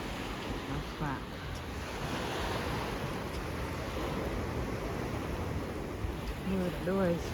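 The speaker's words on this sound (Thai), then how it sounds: "ริมทะเลตอนเย็น" Sea waves wash onto the shore at night at Levanto, a steady surf rush with some wind across the microphone, while brief voices come through near the start and again at the end.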